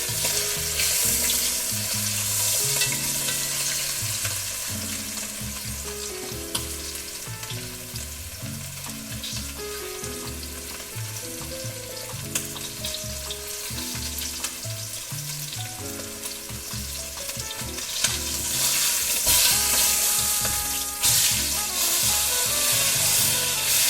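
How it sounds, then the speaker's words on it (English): Veal shanks searing in a hot pan for osso buco with orange, cloves and honey: a loud, steady sizzle and spatter with repeated rhythmic scraping and shifting of the meat throughout, close and without talk. "You have to sear the meat."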